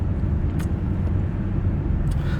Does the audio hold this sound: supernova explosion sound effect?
no